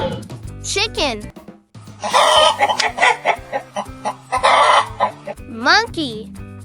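A chicken clucks in a rapid, choppy run of close, loud bursts lasting a few seconds, bracketed by a brief spoken voice at the start and end.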